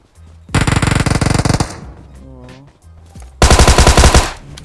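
Gunfire in the mobile shooter PUBG Mobile, played on an iPhone 11: two loud automatic bursts of rapid shots, the first over a second long, the second shorter, with a quieter sweeping game sound between them.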